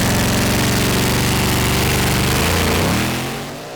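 A pulling tractor engine at the 2008 European Tractor Pulling Championship in Norway roars loud and close at full throttle, a dense steady drone that shifts pitch near the end before easing off.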